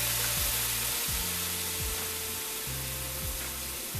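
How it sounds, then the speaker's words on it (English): Half a cup of white cooking wine hitting a hot pan used for cauliflower piccata gives a loud, steady, broadband sizzle that lasts throughout, with a low stepped tone underneath. "we're going to add in the white wine"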